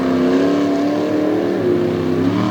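A monster truck from Maryland circles the Lake Erie Speedway, a loud, continuous engine roar with a steady pitch that wavers and rises slightly as it drives, with no talking.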